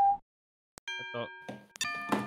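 In a Scooby-Doo ghost-town video game, a mule's bells chime a short melodic sequence of separate bright tones after a pause, clear and isolated, with no voices over them.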